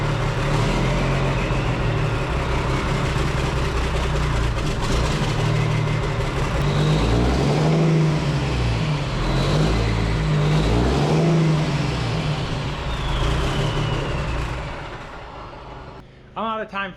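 Engine of a classic American cab-over truck that sat with its fuel emptied, running with a rough, loud low rumble and some revving before cutting off near the end, with someone talking over it.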